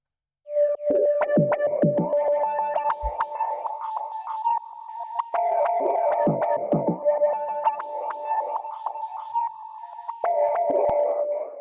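A wavy, warbling synth melody from a hip hop beat built in Ableton, sustained notes wobbling in pitch over low thumps, steady and close for about eleven seconds with no voices.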